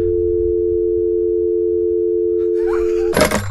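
A steady, unbroken telephone dial tone from the video game That's Not My Neighbor holds for about three seconds, then a brief burst of clicking noise cuts in at the end.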